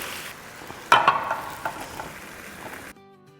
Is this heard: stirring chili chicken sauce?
yes